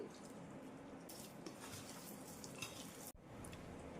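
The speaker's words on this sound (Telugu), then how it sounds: "కారం, ఉప్పు, అల్లం వెల్లుల్లి పేస్ట్ అన్నీ కూడా బాగా కలిసిపోయేలాగా ఇలా కలపండి" A spoon stirs chili powder, salt and ginger-garlic paste with a splash of water in a pan, a steady wet scraping and squelching that runs throughout, faint and close, with no talking.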